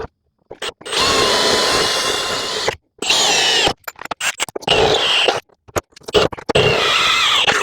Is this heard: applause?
no